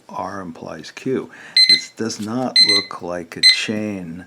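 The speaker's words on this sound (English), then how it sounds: "Pardon the noise, it's my timer." A timer alarm going off during a math lecture, repeated bursts of sharp electronic beeping that sound over the lecturer's steady speech, close and fairly loud.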